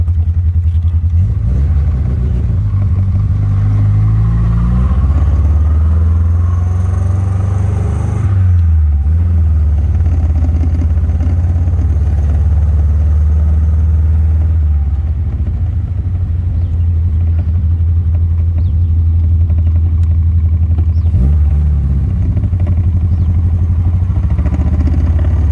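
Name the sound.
Raynard Triumph car engine running while driving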